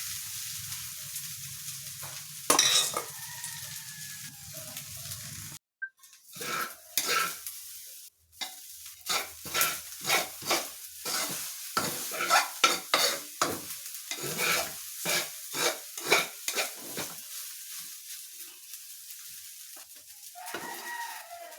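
Rice frying in hot oil in a pan for sinangag, with a soft sizzle under repeated scraping and stirring strokes from a spatula, close and fairly quiet, pausing briefly before a steady run of stirring.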